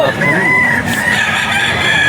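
A rooster crows loudly and close at the Bocaue pet market in the Philippines, one drawn-out call held for about two seconds over a busy crowd murmur.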